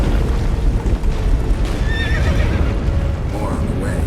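A horse in The Witcher 3: Wild Hunt video game gives a loud, clear whinny amid hoof clip-clops and game sound effects, with voices speaking alongside.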